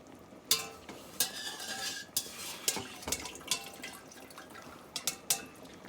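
Beef tripe soup with bok choy and roasted red peppers is stirred in a pot, giving soft wet sloshing and scattered clinks of utensil against metal, quiet and close, with no talk.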